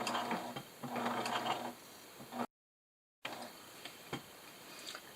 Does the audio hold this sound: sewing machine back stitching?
yes